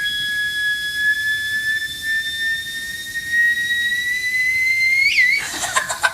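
A theremin plays a sustained, slowly rising electronic tone with faint harmonics for about five seconds, ending in a brief wavering swoop and a burst of noise.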